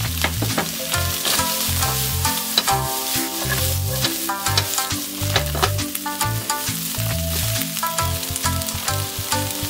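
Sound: stir-frying bean sprouts for tofu champuru

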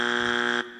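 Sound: timer buzzer at a panel discussion

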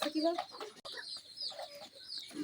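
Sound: chickens clucking in a chicken house

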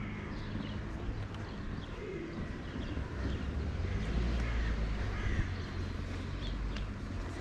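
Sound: pigeons cooing while eating nuts

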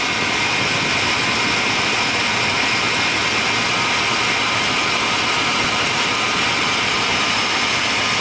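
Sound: Chevy Silverado engine running after starting

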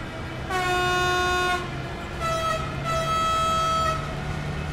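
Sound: BR 193 Vectron locomotive running, from video game Train Sim World 4

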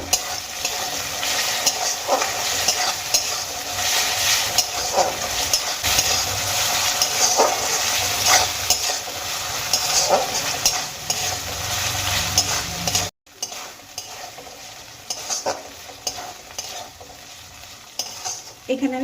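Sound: frying onion, ginger and garlic paste together

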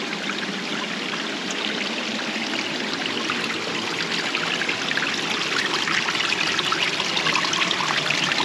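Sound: waterfall in a rocky canyon

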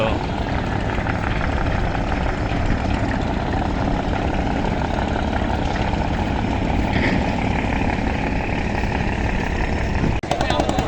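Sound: launch boat engine at river ghat

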